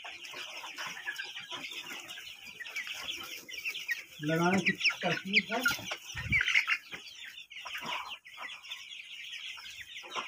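Several chickens cluck and cackle close by, busy and overlapping, while someone talks over them.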